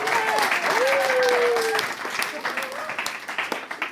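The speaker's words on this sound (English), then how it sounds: "She does deserve a clap for that." Audience applause at a science show after a hot-air bin bag demonstration, a dense burst of clapping with some voices and a whistle-like call over it, loud at first and thinning toward the end.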